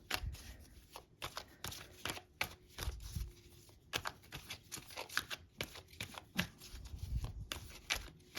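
A deck of tarot cards is shuffled up close for a ten-card Celtic cross spread, with rapid riffles, slaps and soft thuds in an uneven rhythm and no voice over them.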